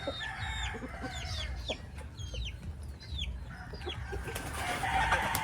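Backyard chickens, including Rhode Island and Black Australorp hens, cluck steadily behind a house while a rooster crows and high chick-like peeps repeat, all close and moderately loud with no talking.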